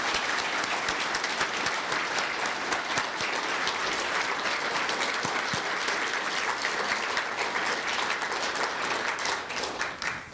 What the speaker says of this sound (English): let's give one more round of applause to all of today's award recipients